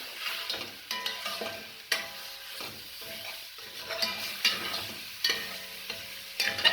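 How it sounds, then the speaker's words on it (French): Flour toasting in a pan as the base for a venison stew, with a steady sizzle and frying hiss, stirred by a utensil that scrapes and taps the pan in an irregular rhythm, up close and with no voices. "Vous voyez la farine en train de cuire."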